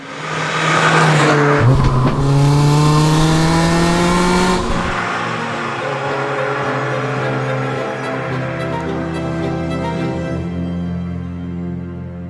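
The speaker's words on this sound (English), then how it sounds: "I'm driving a 1990 Euro Spec E30 M3." A 1990 Euro-spec BMW E30 M3 engine roars nearby, revving hard then settling into a loud, steady drone as it drives on.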